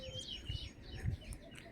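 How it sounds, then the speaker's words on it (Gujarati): Several birds call in the hills on a village morning walk: short, bright chirps and tweets scattered across the moment over soft, low rustling ambience, fairly faint and unaccompanied by any voices. "અલગ અલગ મિત્રો પક્ષીનો અવાજ તમને સાંભળવા મળી રહ્યા છે"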